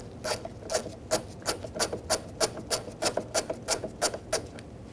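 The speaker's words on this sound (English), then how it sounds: "using an 11mm socket, we're going to take out these nuts." An 11mm socket on a ratchet loosens the side mirror nuts on a 2000-2007 Ford Taurus, giving a steady run of close, even clicks about four per second.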